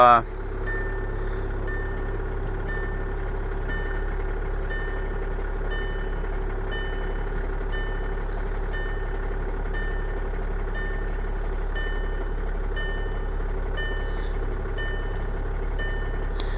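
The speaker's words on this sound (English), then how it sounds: "So I'm gonna let it idle for a little while and see if there's any faults just idling." A 2011 Volkswagen Jetta TDI diesel engine with DSG gearbox idles with a steady low rumbling hum, while a faint electronic beep repeats in a regular pattern throughout.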